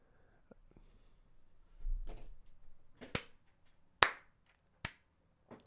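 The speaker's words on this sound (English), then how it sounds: "Slow claps." Slow, quiet hand claps come one at a time, about a second apart, with three or four sharp claps near the end and faint murmuring sounds between them.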